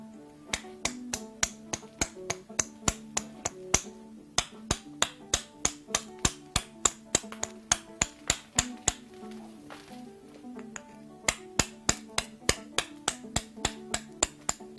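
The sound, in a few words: flintknapping, trimming the edge of a glass arrowhead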